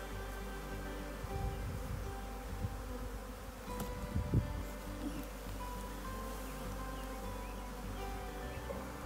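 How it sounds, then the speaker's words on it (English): A swarm of bees at a hive produces a steady, dense humming buzz, close and continuous, with a few brief rustles and knocks over it and no talking. "Wow, it's a lot of bees. There's a lot of bees."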